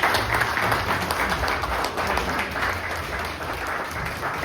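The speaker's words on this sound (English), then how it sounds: "let's have a big round of applause for John" Crowd applause for John at an outdoor speech in Freehold, New Jersey, loud and continuous dense clapping from many hands throughout, with no talking.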